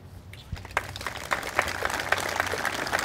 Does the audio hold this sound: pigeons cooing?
no